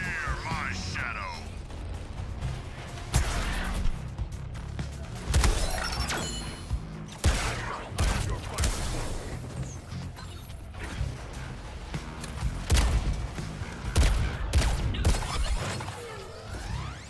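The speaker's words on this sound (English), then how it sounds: "Gotta love those critical explosions." Repeated booming explosions and crashes from action in the video game Suicide Squad: Kill the Justice League, dense and loud, with a voice speaking over the noise.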